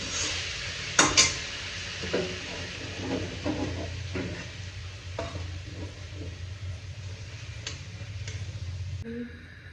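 Meat fries in a pan with a steady sizzle while a utensil stirs it. Several loud metallic scrapes and clinks come near the start, then softer scraping taps continue. No one speaks.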